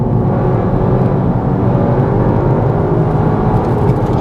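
Volkswagen Golf GTI Clubsport S accelerating hard along a road, a loud, continuous engine drone heard from inside the car, steady and close with no talk over it.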